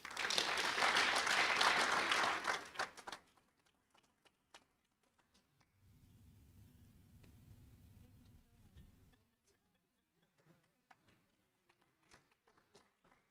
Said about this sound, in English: So big applause for Bas Joosten.